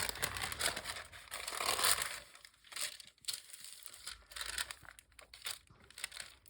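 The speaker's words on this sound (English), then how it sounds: "Let me reach down here and get this paper." Sheet paper is picked up and handled close by, giving a sustained rustling and crinkling followed by several sharp, quieter crackles and taps. No one speaks over it.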